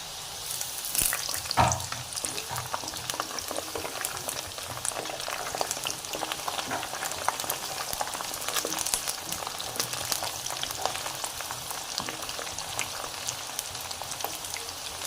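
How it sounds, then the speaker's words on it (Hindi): Potato chips frying in hot oil for crispy bazaar-style chips, a steady dense sizzle and bubbling crackle throughout, moderately loud and close, with no speech. "तीन से 4 मिनट लगेंगे इसे फ्राई होने में।"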